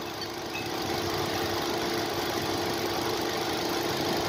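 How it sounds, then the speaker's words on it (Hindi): A Hyundai Grand i10 with a rebuilt 1.2 Kappa VTVT petrol engine idles with a smooth, steady low hum, with a fan whirring along, close and continuous, with no talking. "इतना स्टेबल कर रखा है इंजन को"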